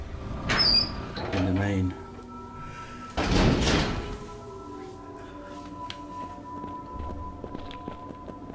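A door opens in the Resident Evil 0 video game with a short creak and heavy thud, followed by a louder swell of movement and a quieter bump, heard over a background drone while a person speaks briefly.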